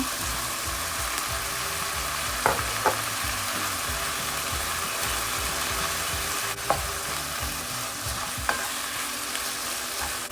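Pork and shrimp paste being stir-fried in a pan for a bitter bean dish, a steady close sizzle and frying hiss with a few sharp scrapes of the spatula against the pan, no voices.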